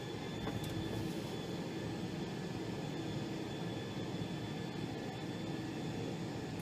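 Steady, loud jet engine thrust roars inside an airplane in a flight simulator game as power is gradually increased. The broad, continuous rumble and hiss hold without a break, and no one speaks.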